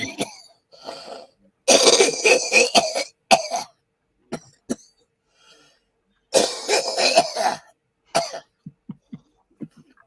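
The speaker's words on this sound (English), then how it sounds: "you know why you're coughing, don't you?" A man with COPD coughs in repeated harsh fits, loud and close, in several bursts separated by short pauses, with a few lighter throat-clearing coughs trailing off.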